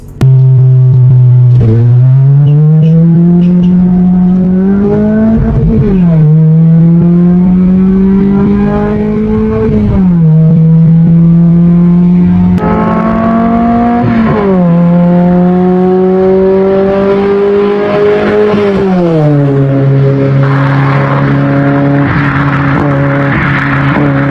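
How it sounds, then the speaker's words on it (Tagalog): A stock Toyota 4AFE engine with a scab exhaust, loud and close, revving again and again from a steady idle drone up into rising, raspy pulls before dropping back, with no talking over it. "Meron nga pala ako dito guys sa sample ng stock engine na 4AFE na naka-scab."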